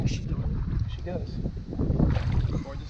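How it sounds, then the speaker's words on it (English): Gusty wind buffets the microphone with low rumbling bursts during bass fishing, and voices talk over it. "Super windy day"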